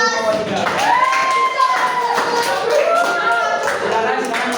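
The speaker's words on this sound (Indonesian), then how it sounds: "silakan kembali tepuk tangan untuk kelompok 3" Classroom students clap for a group presentation during a microteaching session, a close, fairly loud patter of hands mixed with voices talking over it.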